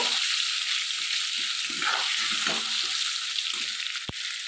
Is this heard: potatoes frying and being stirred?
yes